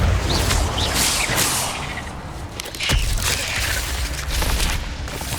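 Spell effects from the Incendio fire spell in the Hogwarts Legacy video game burst out as whooshing, booming blasts with crackling, rushing noise, one heavy thump standing out midway.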